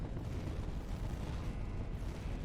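Rumbling video-game explosion blasts fill the clip, dense low booms and crackling debris rolling continuously without pause, loud and close with no talk over them.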